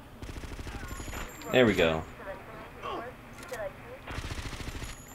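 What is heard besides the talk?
machine gun fire in video game GTA: Vice City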